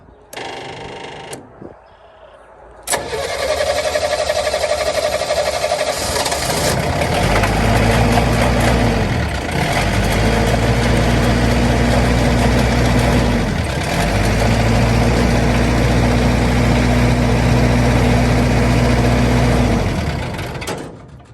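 A 15 kW MEP-804A military diesel generator cranking after months unused, then catching and running with a loud, steady mid-pitched engine drone that dips briefly twice before settling back into a constant hum.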